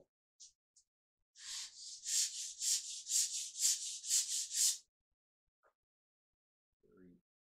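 Light rhythmic sanding of a cane reed for an uilleann pipe chanter, about ten quick soft rubbing strokes in a steady back-and-forth pattern, close and quiet, with faint taps before and after.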